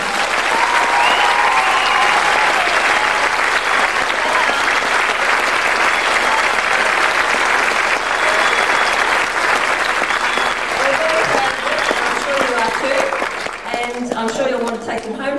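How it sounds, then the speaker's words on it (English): An audience at a 1998 Christian school performance gives loud, sustained applause, a dense continuous roar of clapping that eases slightly near the end as a voice begins speaking. "give them a clap, please."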